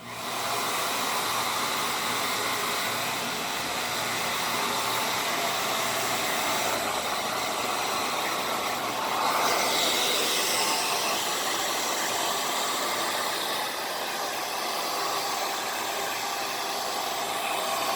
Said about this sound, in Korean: 뒤에서 뿌리를 역방향으로 바람을 쐬서 말려주시면 되겠습니다